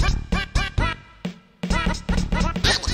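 Music from the Sonic video game plays loud and close, with punchy rhythmic stabs and bursts of bright melody broken by a brief lull.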